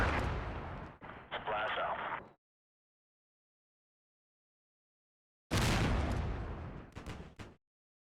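Artillery area fire on a hillside in the Combat Mission Black Sea video game, two loud bursts of rumbling blasts separated by several seconds of silence, with a voice speaking over them.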